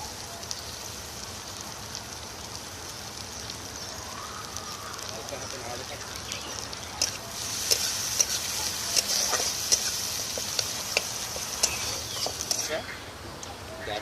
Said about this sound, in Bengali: এতে আমরা গাজরগুলো ভেজে নেব গাজরের মধ্যে বিনসগুলো দিয়ে ওটাও একসঙ্গে ভেজে নেব